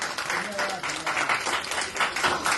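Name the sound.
applause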